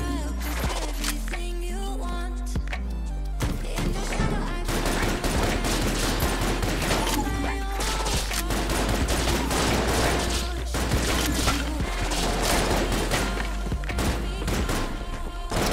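Enter the Gungeon gameplay fills the mix with dense, rapid video-game gunfire and bullet effects layered over continuous background music, loud and unbroken throughout.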